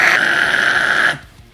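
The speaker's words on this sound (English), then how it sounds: "And then we get the fry scream" A vocal fry scream, a raspy, distorted and strained voice held for about a second at close range, which cuts off abruptly into quiet.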